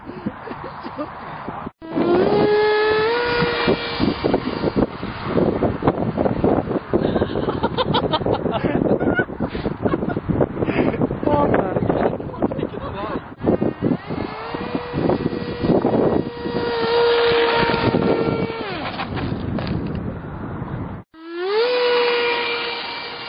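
A repaired RC fighter model plane flies on a windy day; its electric motor gives a loud, steady whine that rises and falls in pitch, buffeted by gusts, dropping out briefly near the start and again near the end.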